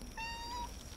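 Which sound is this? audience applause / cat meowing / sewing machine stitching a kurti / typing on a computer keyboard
cat meowing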